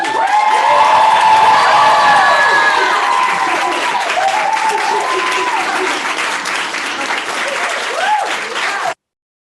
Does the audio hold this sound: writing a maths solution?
no